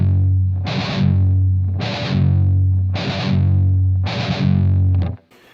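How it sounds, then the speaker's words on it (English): A heavily distorted electric guitar chugs galloping power chords in a metal riff, four loud, tight bursts of rapid picking in steady rhythm, close and dense, cutting off abruptly at the end. "In this case, I'm galloping the entire power chord."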